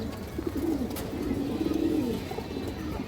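Pigeons cooing softly in a loft, a series of low throaty coos repeating through the moment over quiet background noise.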